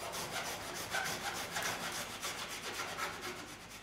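A knife scrapes along lamb bones while a best end is butchered, giving a faint, close, rhythmic rasping with repeated short strokes and no voices.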